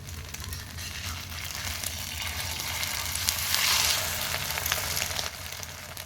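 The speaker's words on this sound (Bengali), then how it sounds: "উল্টে পাল্টে ভেজে নিলে আমার একটা পরোটা রেডি হয়ে যাবে।" An egg paratha fries in a pan as a steady, moderately loud sizzle with a soft crackle running throughout, swelling slightly midway.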